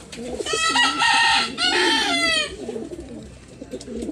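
Racing pigeons at a loft give off bird calls, with two longer bright harmonic calls up front and a steady low burbling coo running throughout, fairly close and alone.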